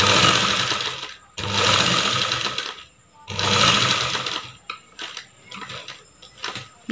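A sewing machine stitches around a blouse neck in three long, even bursts of rapid whirring, followed by a few short stop-start runs, close and clear with no talk.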